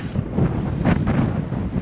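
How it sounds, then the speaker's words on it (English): Steady coastal wind buffets the microphone in a continuous low rumble and rush, with no voices. "It's a beautiful day, a little windy, like it is so often on the coast."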